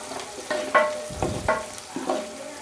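Onions and green chillies fry in a pan, a steady close sizzle broken by several sharp scraping stirs of a spoon, with no talking.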